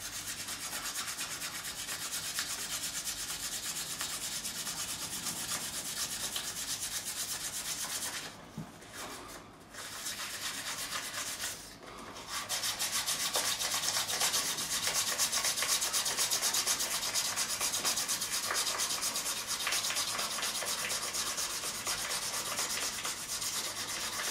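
A 2005 Fender Standard Stratocaster fingerboard is hand-polished with a steady, loud, hissing rub that continues almost without break, with two brief pauses midway.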